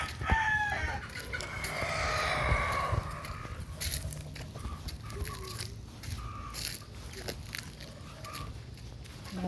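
Chickens clucking and squawking close by amid a noisy, rustling outdoor background with scattered sharp bursts.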